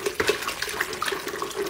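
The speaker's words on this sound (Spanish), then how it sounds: "Se bate bien la mezcla para que" Plaster and water being beaten together by hand for a 3D panel mold, giving soft wet sloshing and splashing that pulses irregularly, close and fairly quiet, with no voices.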